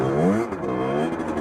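A Beta 50cc motorbike revving hard as its rear wheel slides and skids, a continuous strained engine whine with rising and falling pitch, loud and close, no voices.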